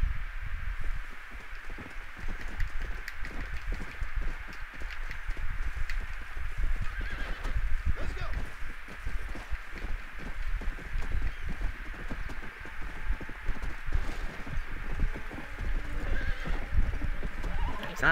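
Rapid, continuous hoofbeats clatter throughout in a video game, with a horse neighing and whinnying over them.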